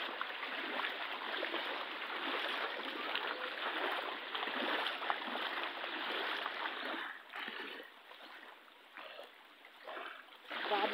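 Deep floodwater flowing in and around a house during a flood, a steady rushing, splashing wash of water that stays close and loud throughout, with some uneven surges toward the end.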